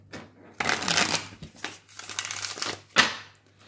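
Tarot cards are shuffled by hand in several brisk riffling bursts with short pauses between, close and fairly quiet.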